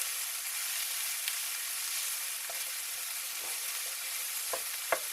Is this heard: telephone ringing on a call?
no